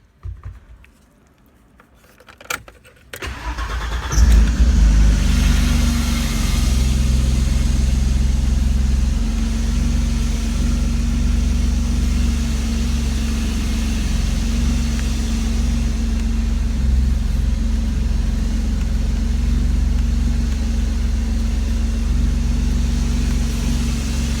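A 1987 BMW 325e, fitted with an M50 engine swap, cranks briefly and fires, then settles into a steady, close idle that holds for about twenty seconds with no talking.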